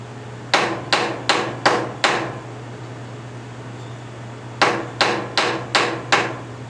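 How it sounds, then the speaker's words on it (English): A toy train coupler link is hammered straight on an anvil: two bursts of five sharp, ringing metal strikes each, evenly spaced, close and loud over a steady background hum. "I have an anvil."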